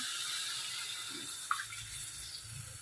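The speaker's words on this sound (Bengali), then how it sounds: "যখন হয়ে গেছে তখন একটু জল দিয়ে দিই" Water poured into a cooking pot while a mustard-okra dish cooks, a soft steady wash of pouring with a single small clunk midway, moderately quiet and continuous, no voices.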